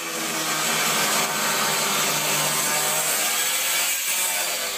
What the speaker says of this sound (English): I used large and small grinders to cut the hole.